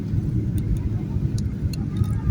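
Steady low rumble of a passenger airplane's engines and airflow heard from inside the cabin while landing in foggy conditions at Calgary, a continuous heavy drone with faint higher ticks over it.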